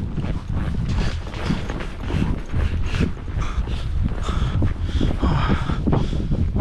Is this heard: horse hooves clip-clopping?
yes